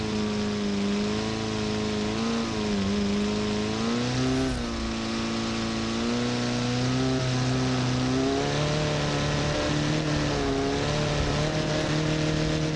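A Baja off-road competition car driven at full throttle through sand, its engine droning loud and close with a steady high rev that wavers slightly as the load shifts.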